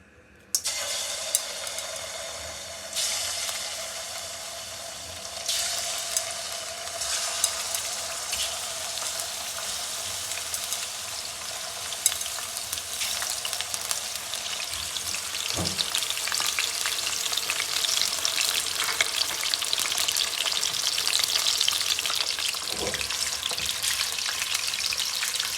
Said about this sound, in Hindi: अब इसको ज़रा अच्छी तरह फ्राई कर लेंगे